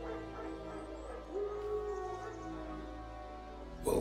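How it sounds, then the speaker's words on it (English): Wild dogs in The Witcher 3, heard as a sustained canine howl or whine rising out of a droning game background, with a sharp noise at the very end. "Wolves? No. Wild dogs."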